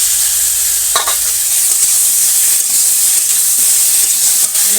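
Vegetables frying with turmeric, ginger, cumin and chili paste in a village kitchen pan: a loud, steady sizzle and hiss, close up, with stirring scrapes throughout.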